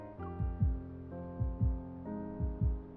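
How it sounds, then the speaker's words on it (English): A heartbeat sound effect in the game Love and Deepspace throbs in three deep double thumps, a low lub-dub pulse each second over a soft sustained musical drone. "The sound of my heartbeat is amplified in my ears."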